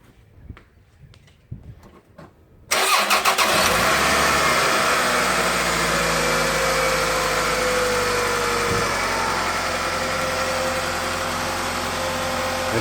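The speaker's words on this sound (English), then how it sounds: "you can start it up and make sure it runs" A Toyota car engine cranks and fires after a coil pack and spark plug change, a few soft clicks giving way to a loud, steady idle that runs on evenly.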